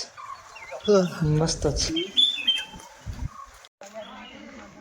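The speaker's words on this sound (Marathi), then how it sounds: "किल्ल्याच्या पायथ्याशी आल्यावर असा हा पक्ष्यांचा आवाज." Birds call at the foot of Tikona fort, with clear, fairly close whistling and chirping notes in a quiet outdoor setting, and a person speaks briefly among them.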